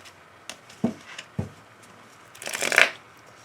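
A deck of oracle cards is shuffled for a love reading: a few soft separate riffles, then a louder dense burst of card shuffling near the end, close and alone.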